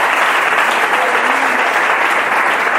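A congregation at a Spanish-language Christian sermon breaks into loud, dense applause, many hands clapping together in a sustained wash with no pause.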